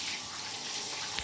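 Water runs steadily from a tap while newly rescued puppies are rinsed of fleas, a continuous close rushing splash with no talking.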